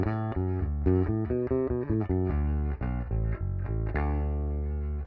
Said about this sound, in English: Just to try to get a very basic bass sound.